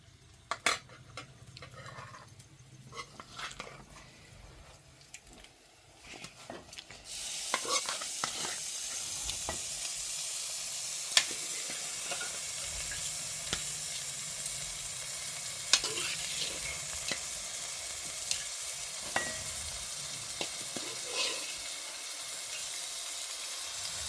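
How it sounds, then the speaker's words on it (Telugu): Marinated chicken dropped into hot oil in a home kitchen, a sudden loud sizzle that starts a few seconds in and keeps crackling steadily, with scattered spatula scrapes and clinks, quieter clatter before the pieces hit the oil. "ఇప్పుడు ముందుగా రెడీ చేసి పెట్టుకున్న చికెన్ని నూనెలో వేస్తాను"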